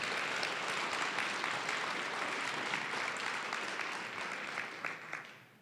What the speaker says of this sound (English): Let's give a round of applause to Richard Kluche.